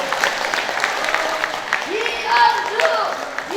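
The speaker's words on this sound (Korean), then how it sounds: "장시간 열강을 해주신 이현주 의원님께 다시 한번 뜨거운 박수 부탁드립니다" Audience applause after a lecture at a political reform alliance general assembly in Busan, a steady wash of clapping that swells slightly near the end, with a voice speaking over it throughout.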